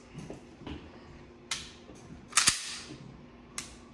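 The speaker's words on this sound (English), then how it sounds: "Let's listen to the trigger reset on this." A Smith & Wesson M&P Shield EZ 9mm pistol, unloaded, clicks close to the microphone: several sharp metallic snaps of the trigger resetting, one louder double click in the middle, with a faint mechanical rattle between them and no speech.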